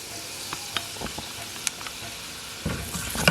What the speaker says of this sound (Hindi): ऑल पर्पस फ्लोर को भी मैंने फ्राई कर लिए।